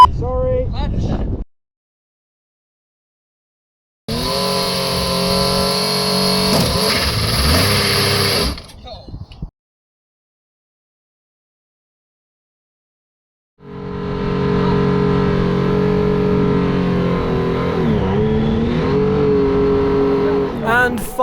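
A Formula Student race car engine revs and pulls away in two bursts, loud and close, with a clutch-slipping start, separated by silences; people talk around the engine noise.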